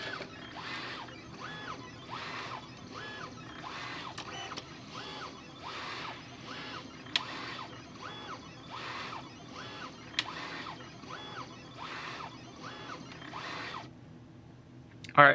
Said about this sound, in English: when the machine finishes cutting, it's gonna spit out the sheet by itself automatically